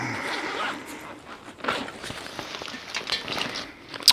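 Zippers being pulled open on a five-day survival backpack, a few quick rasping zips mixed with fabric rustling and handling noises at close range.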